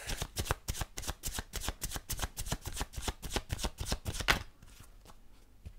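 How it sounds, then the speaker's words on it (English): Oracle cards riffled and shuffled in a rapid run of crisp flicks and slaps, close and fairly soft, ending with a quieter rustle as a card is drawn. "I'm going to throw a card here"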